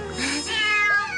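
Hungry cats in a Hindi-dubbed Shinchan cartoon meow while eating sushi, with loud, overlapping, drawn-out meows close up that fill the whole moment.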